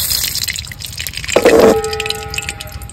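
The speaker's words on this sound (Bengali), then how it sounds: "কড়াই গরম হয়ে গেছে, দিয়ে দেবো সরিষার তেল।" Mustard oil is poured into a hot wok on a village stove, a short gushing splash about a second long rising above a low background hiss, followed by faint dripping and a quiet tonal ring.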